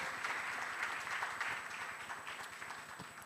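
Audience at a national journalism awards ceremony in Uganda breaking into steady applause, a dense wash of many hands clapping in a hall that slowly tapers off.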